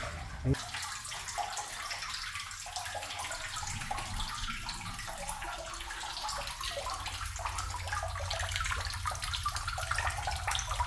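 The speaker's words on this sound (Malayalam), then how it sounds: "വെള്ളം ചാടുന്ന സൗണ്ട് കേട്ടോ അത്രയും ഉറവുണ്ടത്" Water splashes and gushes continuously in an echoing well as a long-submerged motor is raised, a steady rushing that grows slightly louder toward the end.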